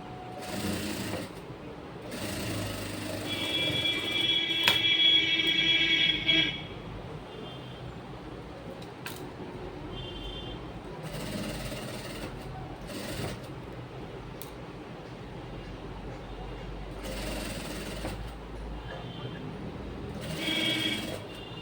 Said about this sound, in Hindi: धीरे धीरे कपड़ा को घुमाएंगे और सिलाई करते जाएंगे